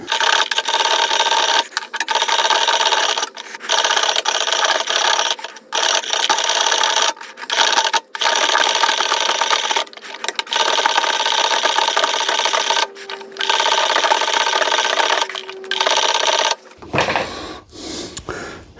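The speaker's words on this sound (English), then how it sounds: "since I have it off, we'll wire brush that shaft," A wire brush scrubs the electric starter shaft of a snowblower in loud, rasping strokes that repeat steadily with short pauses between them, ending in a few uneven scrapes.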